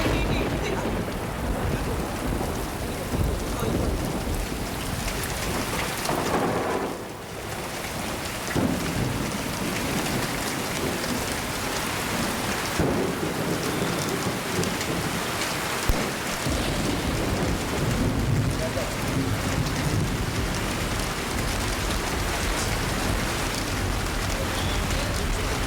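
Heavy rain pours steadily and loudly on surfaces, with rumbles of thunder rolling through the downpour and gusting wind during a power outage.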